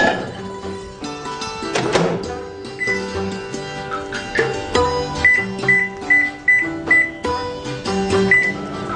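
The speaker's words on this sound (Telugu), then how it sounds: "పంచదార వేసేసి మైక్రోవేవ్ లో 5 మినిట్స్ దాకా కుక్ చేయాలి." A microwave oven runs while cooking cubed apple with sugar, a steady hum with clunks and repeated short electronic beeps near the end.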